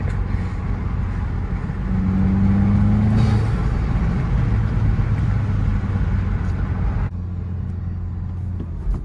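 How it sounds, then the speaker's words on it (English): A Volkswagen MK7 GTI with a Stage 1 intake drones steadily while driving, heard from inside the cabin as a loud continuous rumble with a brief rising tone early on and a sudden drop in intensity near the end. "Intake makes pretty cool noises."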